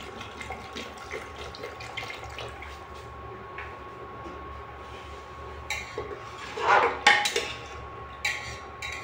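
Water is poured into a pot of peas in a short splashing burst near the end, after a stretch of quiet hum with faint trickling.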